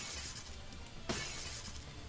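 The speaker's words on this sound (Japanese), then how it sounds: "The hardened reinforced glass shattered like thin ice before her wrath." Hardened reinforced glass shattering in the video game Honkai Impact 3rd, a single sharp crash with a bright, crackling tail standing out against a steady background.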